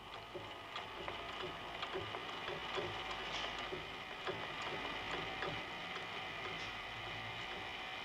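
A Swiss clockwork drawing automaton whose second mechanism brings twelve cams into play, making a steady dense ticking and whirring of gears and cams that runs continuously and fairly close.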